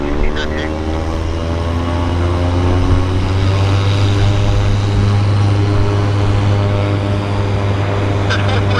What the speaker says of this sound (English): Yeah, that's a big Gulfstream